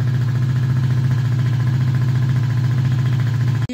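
A small motorcycle engine, started without the key, runs at a steady idle, close and loud with an even throbbing pulse until it cuts off abruptly at the end.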